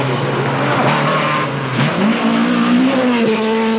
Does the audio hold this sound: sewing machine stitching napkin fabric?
no